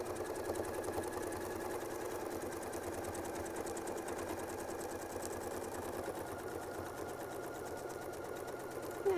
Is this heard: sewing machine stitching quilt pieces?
yes